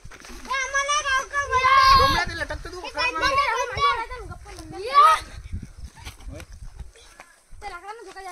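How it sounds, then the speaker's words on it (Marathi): Children shout and chatter excitedly while playing on a swing outdoors, their high voices rising and falling in bursts over a few seconds. "हे पाय लायण्यासारखे मोठे लेकर इथं झोका खेळू राहिले"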